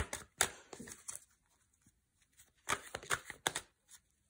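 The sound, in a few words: shuffling oracle cards for a reading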